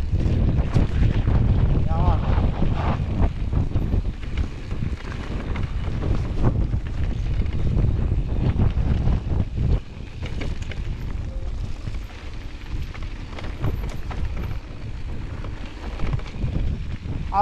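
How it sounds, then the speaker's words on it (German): Strong wind buffets the microphone with a continuous loud roar at a bike park, gusting harder at the start and easing slightly later, with faint voices underneath. "Obwohl schon richtig Wind hier ist."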